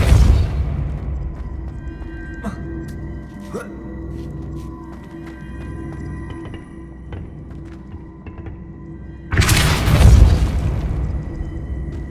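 Confringo fire-blast spell in Hogwarts Legacy, a loud booming explosion burst at the very start and another deep blast toward the end, with quieter game ambience and small pops between.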